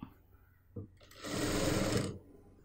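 A sewing machine stitches a churidar made from an old dupatta in a short burst of rapid mechanical whirring lasting about a second, close by, after faint handling sounds.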